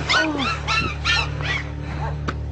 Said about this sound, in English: Oh, so cute, little puppy.